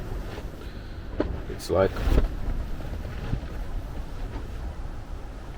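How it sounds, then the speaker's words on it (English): Strong wind buffets a lakeside camp in a steady rushing roar with gusts, and a few soft knocks sound up close while someone speaks briefly over it. "I'm just now waiting for the wind to calm down a bit"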